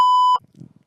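A single loud censor bleep, a steady pure tone about a third of a second long covering a swear word, cuts off sharply into faint background murmur.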